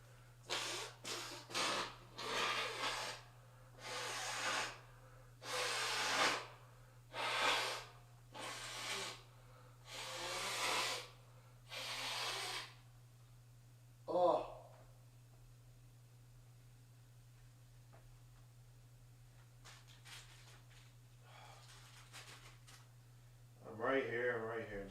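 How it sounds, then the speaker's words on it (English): Someone blows their nose repeatedly, a run of loud, forceful nasal bursts in quick succession over a steady low hum, followed by a quieter pause and a final short snort at the end. "I'm just blowing my nose."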